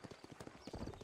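Hooves of a horse in Red Dead Redemption clopping in a quick, close series of distinct strikes, with several beats in about a second that grow heavier toward the end, and no talking.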